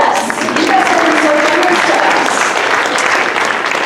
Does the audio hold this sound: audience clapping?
yes